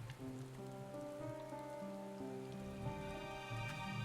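Rain falls in the game Final Fantasy XIV: Endwalker at Camp Broken Glass, a soft, steady hiss under sustained tonal background music.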